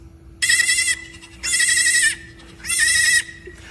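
A person's voice imitating a goat bleat, three loud, close, wavering bleats separated by short pauses.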